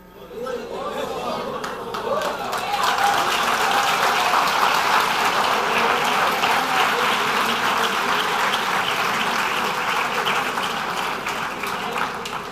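A church congregation breaks into applause, building quickly from quiet into sustained, dense clapping that holds steady for several seconds before tapering slightly, with some chatter mixed in.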